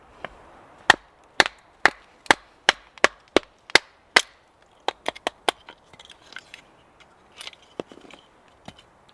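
A blade splits wood against a rock outdoors, a run of sharp, evenly spaced chops followed by quieter, irregular knocks and splintering taps, close and without talk.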